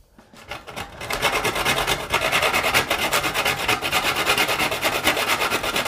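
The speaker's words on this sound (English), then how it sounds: "So I am going to be grating it on this side of the grater" Whole nutmeg rasped against a fine grater for Bajan rum punch, a steady rapid scraping rhythm of quick repeated strokes, close and loud, with no talk.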